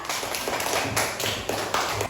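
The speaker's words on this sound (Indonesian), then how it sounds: "Tepuk tangan untuk kelompok 4." A classroom of students claps for a group that has just presented in a lesson on how to perform prayer, a dense, steady patter of many hands filling the room with no talk.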